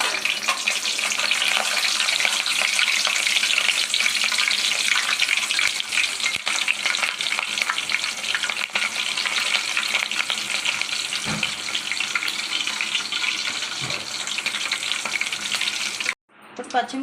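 Green chilies fry in a pan for bendakaya (okra) fry, a loud, steady, close sizzle that runs without a break and cuts off near the end.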